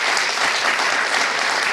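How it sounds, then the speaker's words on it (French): An audience claps steadily and fairly loudly in a hall for the speakers after a panel talk, a dense wash of applause with no voices on top. "On peut peut-être applaudir donc, les intervenants"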